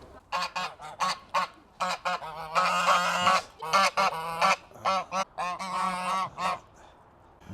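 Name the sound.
geese honking loudly at urban farm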